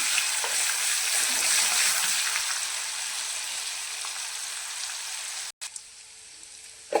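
Garlic and coriander frying in hot oil, a loud close steady sizzle with light stirring, briefly cut off near the end before resuming quieter; no speech.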